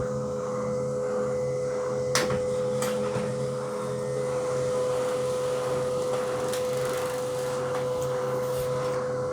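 A Canon LBP 2900 laser printer with a black-print fault runs through a page, giving a steady mechanical whir and hum with a few sharp clicks and knocks. It is close, fairly loud and heard alone without talk.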